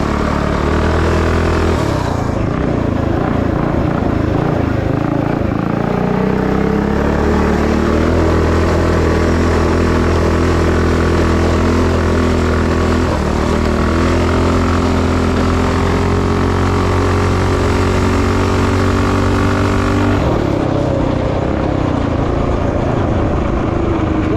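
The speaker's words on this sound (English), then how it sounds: "We have no air filter, but as much as I'm riding this, it's not going to hurt anything. This is good running engine, though." A motorcycle engine running with no air filter fitted, a steady loud near drone with a low throbbing tone held throughout, a slight change in pitch partway through and no speech.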